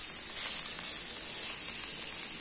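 Bread rolls frying in a pan give off a steady, even sizzle that runs the whole time with no pauses, close and moderately loud, with nobody speaking.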